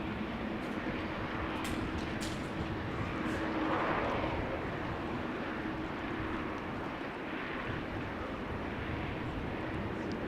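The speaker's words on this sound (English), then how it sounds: "This is a KLM 737-700 arriving from Milan, flight" A KLM Boeing 737-700 airliner arriving from Milan at Amsterdam Schiphol makes a faint, steady engine rumble with a low hum, heard from a distance amid outdoor background noise.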